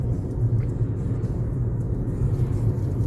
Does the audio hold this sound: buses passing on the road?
yes